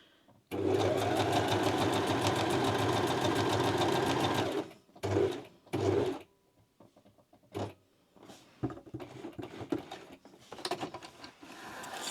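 A sewing machine runs a long, steady, loud burst of stitching along dress fabric, sewing gathering stitches, then stops and gives two short spurts before faint handling noises.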